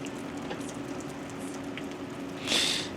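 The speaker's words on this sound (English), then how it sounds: "It's raining pretty good." Rain patters steadily on a van awning, a soft continuous wash of drops with scattered louder taps and a brief brighter splash near the end.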